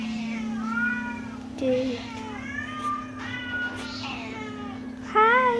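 Several cats meow repeatedly in short, rising and falling calls, close and clear over a steady background hum, while a person speaks between the meows.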